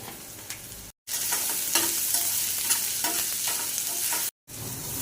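Onions frying with a pinch of salt in a spiced oil tempering for a capsicum curry, a loud continuous sizzle with stirring scrapes, broken by two short silent cuts, with no voices.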